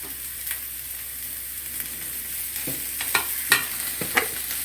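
Onion, cabbage and green chilli stir-frying in a pan, a soft steady sizzle broken by scattered sharp scraping and tapping strokes of a spatula, fairly close and with no talk.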